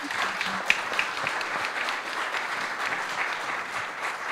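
Audience applause at a panel discussion on East Africa's sustainable development agenda, a continuous, fairly loud patter of many hands clapping without a break.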